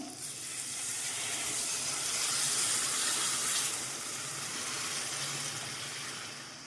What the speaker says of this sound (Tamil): புளி ஊற வச்சுருந்தோம்ல அந்த தண்ணியை கரைச்சி சேர்த்துக்கலாம்